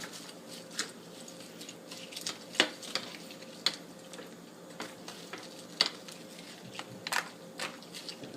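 Chicken, bacon, onion and green beans get mixed inside a resealed bag, giving soft rustling and scattered crinkly crunches and squishes at close range over a quiet background.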